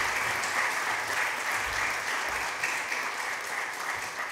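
Steady applause from an audience at a literary award event for the Maruša Krese prize, a dense continuous round of clapping throughout.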